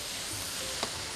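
Steady broadband sizzle of chicken and vegetables frying in a hot pan, continuous and close, with a brief clink of a utensil near the end.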